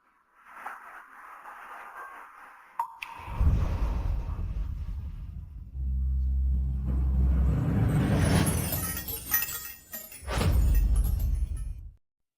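A large car arrives with a deep engine rumble that builds and holds for several seconds, broken by a few clunks and a brief higher rattle, close by and without talk.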